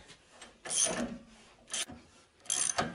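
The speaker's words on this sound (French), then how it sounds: "je fais avancer l'écrou qui tient la bague en bronze" Quiet mechanical clicking and rubbing as a nut is run along a threaded axle holding a bronze bushing on a torsion-bar front suspension arm, in two short bursts separated by a lull, with no talking.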